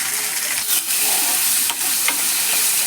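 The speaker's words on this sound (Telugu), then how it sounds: "బాగా వేగాలండి ఉల్లిపాయ ముక్కలు, పచ్చిమిర్చి" Chopped onions and green chillies fry in a pan with spices such as urad dal, mustard seeds, cumin and curry leaves, giving a loud continuous sizzle broken by a few sharp scraping stirs.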